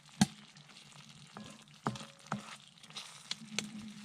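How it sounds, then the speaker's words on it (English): Beef in black bean sauce sizzles steadily in a hot pan on a camping stove, a soft crackling hiss broken by occasional sharp pops and clinks of a utensil, close by. "The beef in black bean sauce. Sizzling away nicely."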